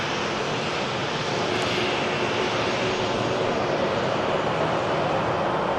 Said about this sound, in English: Very long departure roll, as you'd expect from the 330